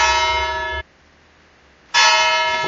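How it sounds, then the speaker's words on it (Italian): Church bells ring loudly with a dense, sustained metallic tone, break off into near silence for about a second, then peal again just as strongly. "Come sentite le campane della mia chiesa stanno suonando?"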